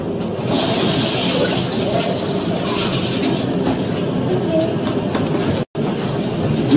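Water runs steadily from a tap in a loud, continuous rushing stream that holds almost unbroken, with one brief cutoff near the end.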